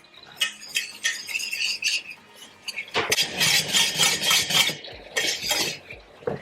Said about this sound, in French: Je viens remuer.